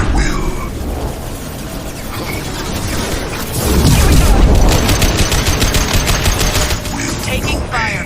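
Sustained gunfire in Mass Effect 2, dense overlapping bursts and impacts that swell louder midway and continue as a rapid rattling stream through the firefight.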